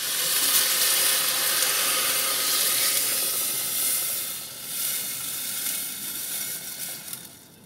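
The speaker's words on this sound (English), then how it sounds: "And a dose of boiling water." Steady hissing sizzle as boiling water is poured into a pan of cooking food, loud and continuous, tapering slightly toward the end.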